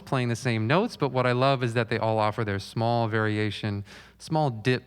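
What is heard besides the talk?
No everyday noise stands out behind the speech.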